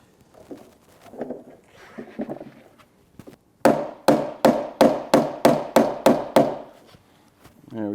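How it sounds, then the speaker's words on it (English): A hammer drives handles onto a shelf of a Griot's Garage Ultimate Detailing Cart with eight loud, evenly spaced strikes, after a few softer taps and shuffling sounds. "the top shelf will definitely take the most force from the hammer"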